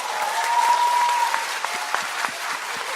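Applause from a Korean talk-show audience, a steady patter of many hands clapping at moderate volume with scattered sharper claps and a brief tonal ring near the start.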